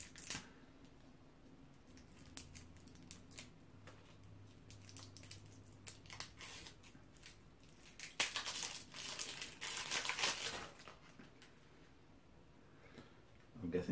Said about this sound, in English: I really hate opening cards.